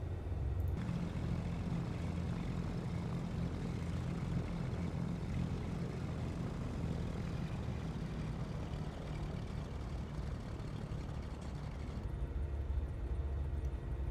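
Cessna 310R twin-engine aircraft taxiing in a flight simulator, a constant low droning engine rumble that stays steady and fairly loud throughout, with no voices over it.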